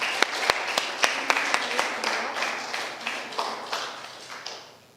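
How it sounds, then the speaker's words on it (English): An audience applauds as a woman is welcomed to speak, a dense wash of clapping with a few sharp, close claps near the start, holding steady for several seconds before thinning and fading toward the end. "let's give her a round of applause and welcome her"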